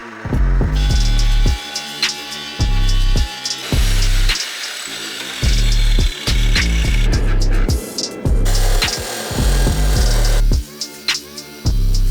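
A Damascus steel billet is cut into pieces with a power tool, heard as a loud, rhythmic series of repeated cutting bursts with short pauses between them, with no talking.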